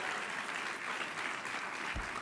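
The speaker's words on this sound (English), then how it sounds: "the kids on the stage who are behaving very well deserve an amazing round of applause." Sustained applause from an audience at a food policy celebration event, dense and steady clapping filling the room for the whole stretch, with a brief low thump near the end.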